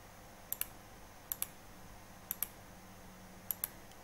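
Calculator keypad being tapped to enter numbers, four quick pairs of sharp, close clicks spaced about a second apart over a faint background hum.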